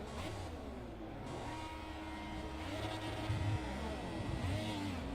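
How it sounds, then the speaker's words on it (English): Race car in Project Cars accelerating hard down a long straightaway, its engine droning steadily and climbing in pitch as it revs up. "Right now I'm gunning it because I'm on a long straightaway."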